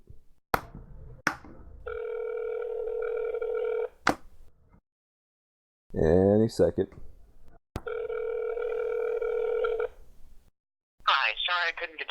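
A telephone call to a friend, with a few clicks and then repeated electronic ring tones in two long bursts, alternating with short bursts of talk.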